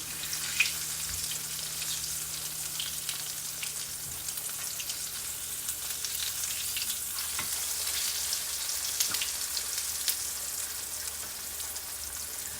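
Green tomato slices fry in a pan with a steady, fairly quiet sizzle and crackle that runs unbroken throughout, with no voices.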